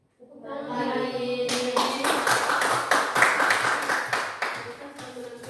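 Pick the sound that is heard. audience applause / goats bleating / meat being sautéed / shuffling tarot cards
audience applause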